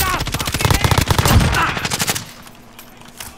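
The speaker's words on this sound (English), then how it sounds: "Oh my god, I'm being shot from every angle." Rapid automatic gunfire in the Warzone battle royale video game hammers in loud, dense bursts for about two seconds, then gives way to a quieter stretch with a last faint shot.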